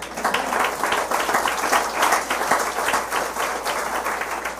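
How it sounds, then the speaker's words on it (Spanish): A church congregation claps together at a Sunday service, a loud, fairly rhythmic wash of many hands continuing steadily for several seconds, close and full, with no speech over it. "Denle un aplauso al Señor."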